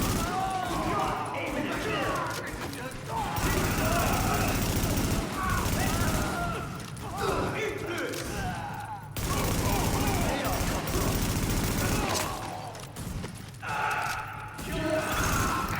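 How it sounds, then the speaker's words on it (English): Rapid machine gun fire from a rooftop gunner in The Division rattles through the scene in dense bursts, mixed with other gunshots and game ambience, with voices talking over the battle throughout. "The escort party's taking heavy fire from the roof."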